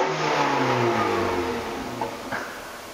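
A 2002 Chevrolet Blazer Sport engine revs loud and close, rising and then easing off, with a couple of brief clunks near the end.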